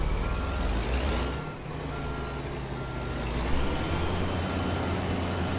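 A truck in American Truck Simulator pulls out of a parking spot, its reversing alarm beeping steadily over the engine's low rumble. The beeps stay prominent and continuous throughout, with no voices.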